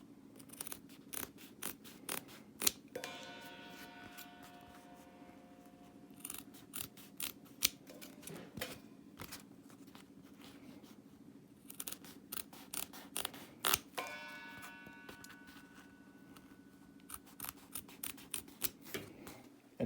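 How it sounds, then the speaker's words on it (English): Scissors cut angled slits into a plastic rototom cutoff piece being made into a drum cymbal mute. Close, crisp snips come in irregular bursts with short pauses between them. "I'm going to cut angled cuts on here so they can go onto the cymbal."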